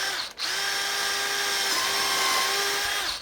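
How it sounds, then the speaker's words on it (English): A power drill with a 5/32 bit drilling into plastic whines steadily at close range for a few seconds, its high-pitched motor tone holding even after a brief catch at the start. "I'm going to drill a hole with this"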